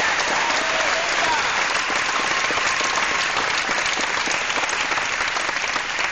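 Sustained audience applause at a graduation ceremony, a dense, steady wash of many hands clapping throughout, with no talk over it.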